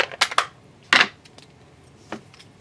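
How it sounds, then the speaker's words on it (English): Scissors snip across stamped paper in a craft setting, giving a few sharp, close metallic cuts in quick pairs followed by a lone softer snip. "So I'm just going to take my scissors and cut straight across."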